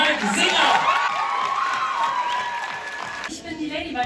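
A film premiere audience of the Miraculous movie greeting guests with loud cheering, whoops and applause, a dense crowd roar with children's shouts that gradually fades, while a voice carries over it.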